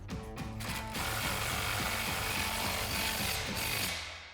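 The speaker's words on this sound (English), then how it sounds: "we're just gonna grab our impact with our 18mm socket and 18mm wrench and tighten it down" Power tooling on a Jeep Wrangler JL during a Teraflex 2.5-inch coil spring lift install: an impact wrench with an 18mm socket drives a suspension bolt tight, giving a steady, loud rattling hammer throughout, close up with no speech.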